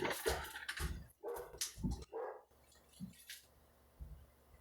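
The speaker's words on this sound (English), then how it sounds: "That dog's bark is louder than my words." A dog barks indoors in a run of sharp, fairly close barks and yips, then a few quieter, sparser barks with pauses between them.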